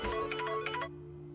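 A mobile phone rings with an incoming call: a brief electronic ringtone of repeated chiming pulses at moderate volume indoors, cutting off after about a second.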